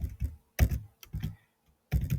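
Keystrokes on a computer keyboard entering short lines of Arduino code, arriving as a few quick bursts of clicks separated by brief pauses, close and clear with no talking.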